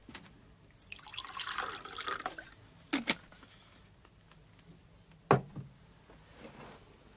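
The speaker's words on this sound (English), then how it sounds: "Pour myself a bit of coffee." Coffee poured into a cup on a writer's table at home, heard as a soft liquid trickle followed by a couple of sharp clinks of cup or pot, close and quiet with no talking.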